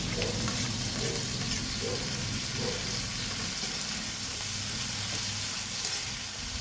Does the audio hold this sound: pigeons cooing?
no